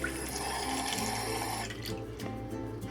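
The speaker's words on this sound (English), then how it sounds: "Add cold water." Cold water runs steadily into a container of cooked, translucent tapioca pearls, a continuous splashing pour that thins toward the end, close and alone without speech.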